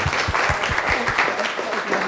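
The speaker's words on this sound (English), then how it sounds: "I think we'll give him a big round of applause" A crowd claps loudly and steadily, with a few sharp individual claps standing out near the start.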